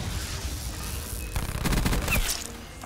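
The Switchblade X9 submachine gun in Call of Duty Black Ops 4 fires a rapid continuous burst amid dense game noise, with fast repeated cracks in the second half.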